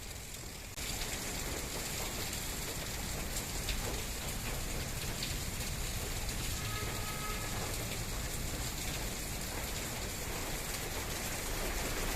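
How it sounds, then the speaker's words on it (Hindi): Steady rain falls continuously and evenly in a residential outdoor setting, close and moderately loud, with a dense hiss of drops on surfaces and no voices. "बारिश हो ही रही है, थोड़ी सी धीमी हो गई है लेकिन अभी भी बारिश हो ही रही है यार"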